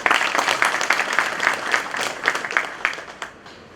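Hands clapping at a bar council enrolment meeting in an indoor hall, a small group applauding with distinct, uneven claps close by that gradually taper off over a few seconds, with no talk over them.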